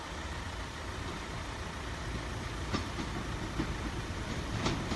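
A train runs through Sleaford East level crossing, a steady broad rumble of wheels and carriages holding throughout, with faint rhythmic clicks of wheels over rail joints near the end.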